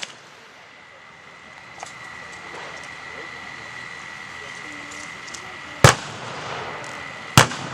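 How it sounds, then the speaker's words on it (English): Artillery fire on a Vietnamese village: a low, steady background rumble, then two sharp, loud blasts a second and a half apart near the end. "Here comes the artillery now."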